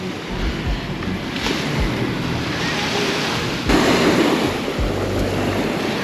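Sea waves wash steadily onto a wide sandy Pattaya beach in Thailand, a continuous broadband surf roar with swells rising and falling, wind buffeting the microphone, and no voices.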